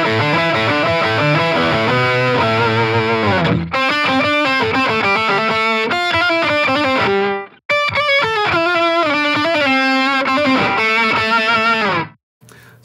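Electric guitar through a Line 6 Catalyst 60W combo amp with a pitch-shift effect set two octaves up, playing bright, distorted lines. The sound is loud and continuous, with a brief gap midway and a cut near the end.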